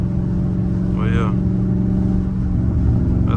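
Catless Dodge Scat Pack V8 rumbling loud and close as a steady low drone under ongoing talk, with a brief rising whine partway through.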